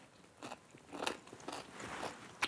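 Crunchy pickle flavored with dill and chili pepper bitten and chewed up close, several crisp crunches at uneven intervals ending in one sharp crack, with no talking.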